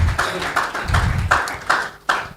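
An audience at a conference convening claps as a speaker is called to the stage, with a series of bright clap bursts in a loose, steady rhythm over a low room rumble.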